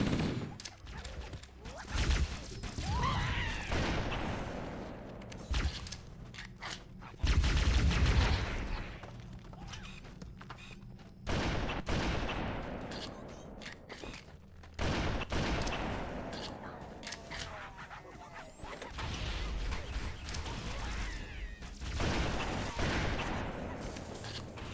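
Gunfire from Covenant stationary guns and weapons in Halo: Combat Evolved on Legendary, loud repeated bursts and heavy booming shots across a long battle, with brief pauses between volleys.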